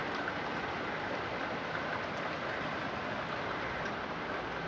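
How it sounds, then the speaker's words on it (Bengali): Heavy rain pours down in a steady, dense hiss that stays constant and fairly close throughout, with no voices. "আর এখন প্রচণ্ড বৃষ্টি হচ্ছে"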